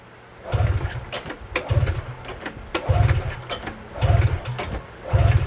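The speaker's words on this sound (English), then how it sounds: "should fire off here for a couple seconds with gas down the cylinder" Ovation moped engine firing briefly on gas poured down the cylinder, making a rough, sputtering run of repeated chugging bursts at close range.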